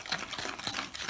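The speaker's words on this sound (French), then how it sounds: "Il faut bien mélanger tout ça." Stirring a sticky, dark dough of coffee grounds mixed with water, giving soft, close scraping and squelching strokes repeated in a steady rhythm at low volume, with no talking.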